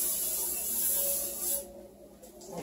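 Spray Away glass cleaner misted from a trigger bottle onto a tabletop, a hissing spray lasting about a second and a half, close and fairly soft.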